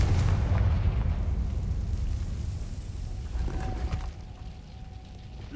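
A spell blast in Hogwarts Legacy booms out with a loud, low rumbling explosion at the start, then decays into a long roar. A brief tonal ring follows toward the end.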